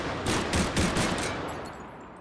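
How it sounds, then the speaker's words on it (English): Bursts of automatic fire from a Lewis gun shot at targets in the VR game Hot Dogs, Horseshoes & Hand Grenades, several loud rapid shots in quick succession that trail off into a fading echo. "Pretty cool, man. The Lewis gun."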